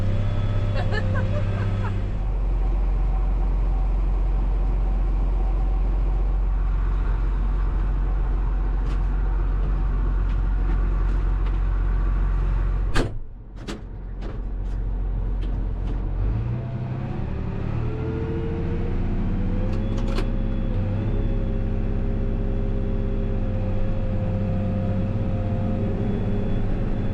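A farm tractor working through a wet field in 6th gear during compaction tillage, its steady low engine drone running continuously and fairly close, with a brief clunk or jolt partway through before the drone resumes.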